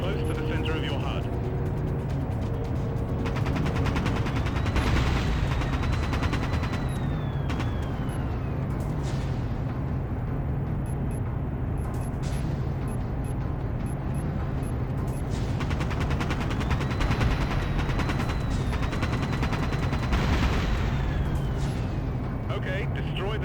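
Rapid bursts of cannon fire from an aircraft in Dropship: United Peace Force on PS5, in two long stretches of fast repeated shots over a constant loud engine drone with sweeping tones.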